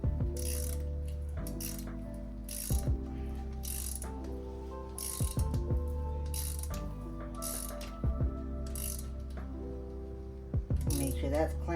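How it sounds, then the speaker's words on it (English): Repeated ratcheting clicks come from a torque wrench tightening the sprocket bolt on a Big Ripper bike, in short rhythmic bursts of metallic clicking separated by brief pauses and occasional sharper knocks, close and clear. "That's why it helps to have a torque wrench like that."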